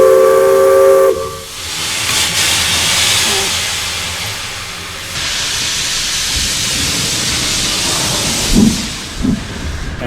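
A steam locomotive's loud whistle blasts for about a second, then heavy hissing steam rushes on and off, with a few low thumps near the end.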